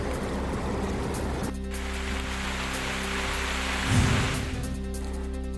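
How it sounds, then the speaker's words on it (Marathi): Heavy, cloudburst-like rain in the Paras area of Balapur taluka, Akola district, makes a dense, continuous hiss of downpour with a brief louder surge partway through. "अकोला जिल्ह्यातील बाळापूर तालुक्यातील पारस परिसरात ढगफुटी सदृश पाऊस"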